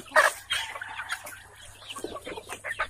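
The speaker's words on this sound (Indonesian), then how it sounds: "Pakannya dibolongi ayam." Free-range village chickens clucking close by, with a loud squawk at the start followed by steady overlapping clucks and murmurs from several birds on an Indonesian farm.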